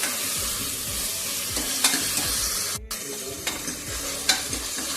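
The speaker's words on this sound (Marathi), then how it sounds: "कोथिंबीर, लसूण, खोबरं, आपण सर्वप्रथम मसाला परतून घेणार आहोत." Masala of coriander, garlic and coconut sautéing in a pan for a village-style chicken curry, a continuous close sizzle with repeated stirring scrapes and a brief clatter.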